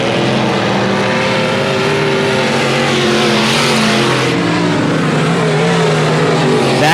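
Stock cars racing at Leesville 171 Speedway, a continuous loud engine roar from the pack with rising and falling pitch as cars pass close by, steady throughout with no talk.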